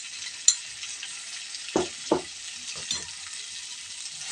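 Pickle mixture with turmeric powder and salt frying and being stirred in a pan for rubika pickle, a steady low sizzle with a few distinct scraping stirs near the middle, no voices.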